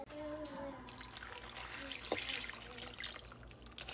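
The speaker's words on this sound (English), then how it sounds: "I'm going to put in a can of water, or a jar, like this full jar full of water as well." A full jar of water poured into a crockpot, a faint splashing, trickling pour lasting a few seconds in a quiet kitchen.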